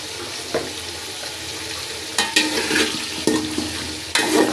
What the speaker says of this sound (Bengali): আলুটাকে সুন্দর মতন একটু ফ্রাই করে উঠায় রাখবো